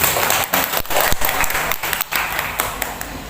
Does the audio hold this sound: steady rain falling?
no